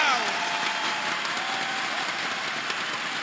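An esports arena crowd at a CS:GO ESL Pro League grand final roars and applauds after an ace, producing a dense, steady wash of cheering and clapping that fades slightly, under a caster talking.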